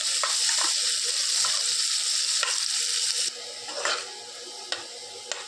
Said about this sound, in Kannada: ಇದನ್ನು ಸ್ವಲ್ಪ ಚೆನ್ನಾಗಿ ಹುರ್ಕೊಳ್ಬೇಕು.